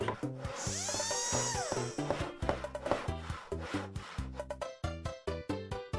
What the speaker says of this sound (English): So normally, get all the screws loosened up.